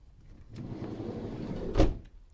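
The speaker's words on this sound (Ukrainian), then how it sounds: "Дверки ну, просто відмінно закриваються тихенько." The door of a long-wheelbase 2013 Opel Vivaro 2.0 passenger van slides with a low rumble, then shuts with a single soft, muffled thud near the end.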